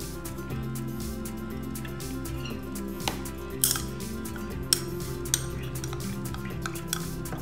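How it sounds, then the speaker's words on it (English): A spoon works soft cheese in a bowl and then mixes in condensed milk for an eggless tiramisu, giving quiet scraping and stirring strokes punctuated by a few sharp clinks of metal against the bowl. "Work the cheese with a spoon to make it softer"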